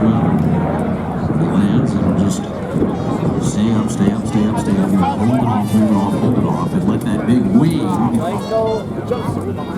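A steady droning roar of a B-25 bomber's 14-cylinder Curtiss-Wright piston engines, moderately near, with a crowd murmuring and voices talking over it at an airshow in New York.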